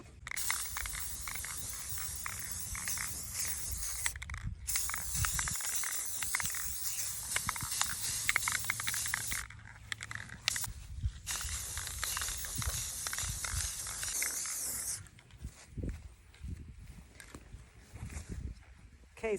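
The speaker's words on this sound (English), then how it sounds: "So I'm going to use the spray paint and give it a coat" Aerosol spray paint hissing onto a wire yard sale item in light coats, several long steady bursts separated by short pauses, fairly close, with faint handling noises between sprays.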